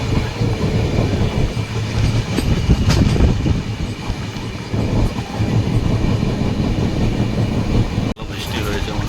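Passenger train running on an Indian line, recorded from inside a carriage: a loud, steady rumble with rhythmic clickety-clack of the wheels over the rail joints and a sudden brief jolt near the end.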